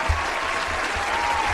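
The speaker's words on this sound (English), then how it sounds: "Get them claps." An audience claps in a brief, steady burst of applause, fairly close and even throughout.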